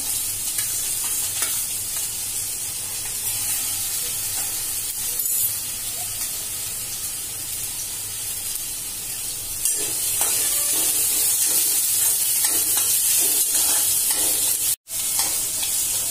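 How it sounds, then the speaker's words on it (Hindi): Chili, capsicum, onion and carrot sizzle and hiss in a hot pan over a low gas flame while being stirred, a steady close frying crackle with occasional scraping, running continuously without talk and briefly cutting out near the end. "स्लो गॅसवर आपण भाज्या चांगल्या शिजवतोय"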